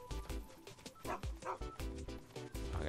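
A dog in the video game Final Fantasy VII Rebirth gives several short barks and yips in quick succession over in-game music, moderately loud and close.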